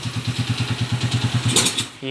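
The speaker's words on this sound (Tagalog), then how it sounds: "Smooth na naman ang makina ni boss." A small motorcycle-type engine idles with an even, rapid putter, close and steady, then revs briefly before cutting off, with a voice speaking over it.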